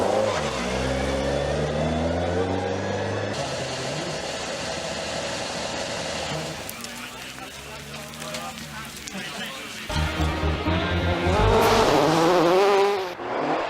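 Mark II Escort rally car on 13-inch forest tyres in snow, engine revving up and down through gear changes as it passes, loud and close then fading, with a voice talking over it.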